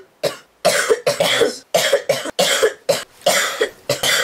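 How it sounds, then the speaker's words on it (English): A rapid run of about ten harsh, close coughs, one after another with barely a pause between them. "Bear with me with the constant coughing."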